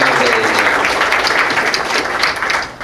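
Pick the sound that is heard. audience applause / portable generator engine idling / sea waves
audience applause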